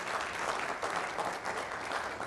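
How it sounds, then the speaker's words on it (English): Audience applause at a Strong Towns talk: a steady wash of clapping from a room full of people, moderately loud and continuous throughout. "Yeah, you can applaud."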